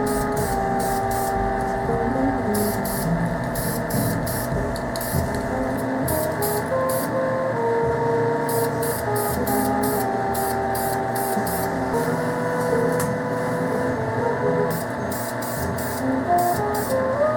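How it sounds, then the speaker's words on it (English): Close, steady hiss of an aerosol can spraying high-temperature paint onto a part from a Honda TRX70 quad, running continuously with short rhythmic breaks and pulses throughout. "now I'm just going to paint this one last piece here with this paint here, just a high-temp paint,"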